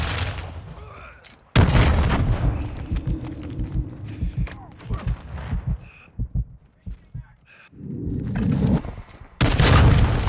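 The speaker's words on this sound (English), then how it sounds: "Throwing flash grenade." A flash grenade bursts with a loud, close bang in a Call of Duty: Modern Warfare II multiplayer match on the Zarqwa Hydroelectric map, followed by irregular gunfire cracks and thuds before another heavy blast at the end.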